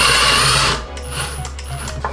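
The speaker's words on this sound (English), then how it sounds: "we'll be using a drill driver for this." Cordless drill driver driving fasteners into a 3D printer toolchanger mainframe, starting with a loud, close whirring burst, then dropping to a quieter, intermittent clicking ratchet.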